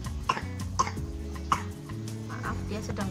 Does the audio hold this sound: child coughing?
yes